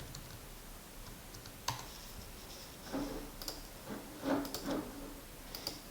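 Scattered keystrokes tapped on a computer keyboard while entering a search into a browser, a few soft isolated clicks then a short burst of quicker typing, quiet and close.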